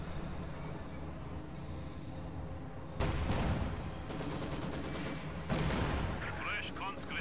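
Machine gun and artillery fire from a Company of Heroes 2 3v3 battle on the Angermuende map, a steady rumbling din with two heavier blasts and sharp bursts of gunfire rising over it, talk faintly mixed in.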